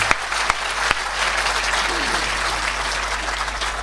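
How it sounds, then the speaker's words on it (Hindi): An audience claps at a Hindi comedy poetry show, a dense, steady burst of applause that fills the room for a few seconds with no voices on top. "इतनी कम तालियां अच्छी नहीं हैं।"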